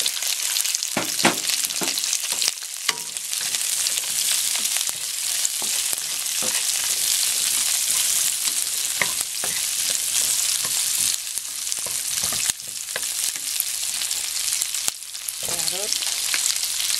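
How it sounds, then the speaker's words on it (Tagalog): Onion hits a pan of oil with browned garlic and fries in a loud, continuous sizzle, with repeated scraping and clattering strokes of a spatula stirring throughout. "pag brown na yung garlic, lagay po natin yung ating onion"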